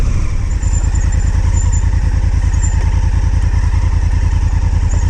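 A Honda Africa Twin motorcycle rides offroad along a slippery chalky trail, its engine thumping in a steady rapid rhythm, loud and close, with clattering from the bike over the rough ground and no talk.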